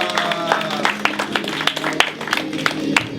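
An audience at an accountancy talk applauds a speaker coming on stage, a dense, steady patter of many hands clapping at close range, with voices faintly mixed in.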